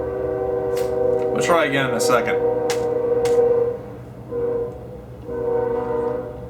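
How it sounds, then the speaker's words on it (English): A passing train sounds a sustained, fairly loud horn of steady layered tones that dip and return, while someone talks over it nearby. "Fucking train. I knew it."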